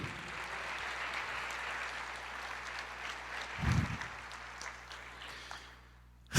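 A church congregation claps steadily together at a Pentecost service, a sustained wash of applause heard from a moderate distance that fades toward the end before a brief loud bump.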